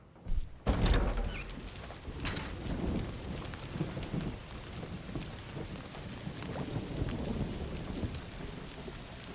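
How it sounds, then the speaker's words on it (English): Video game rain and thunder from Indiana Jones and the Great Circle: steady rain pours down while a deep rumble of thunder rolls through near the start, then the rain keeps falling with low rumbling underneath. "Don't you love rain?"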